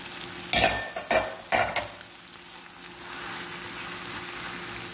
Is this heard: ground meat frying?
yes